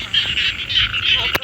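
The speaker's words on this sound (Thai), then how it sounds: "เสียงกบเขียดก็ห้องแซ่ๆอยู่นะ" Frogs croak at night in the countryside, a dense, loud, continuous chorus of close chirping calls that fills the whole short stretch without any voices.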